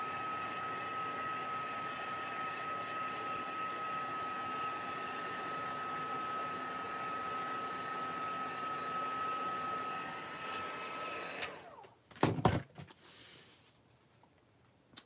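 Heat tool drying a craft project in a home craft setting: a steady, fairly quiet blowing hiss runs for about eleven seconds, then cuts off, followed by a few brief clicks and handling knocks.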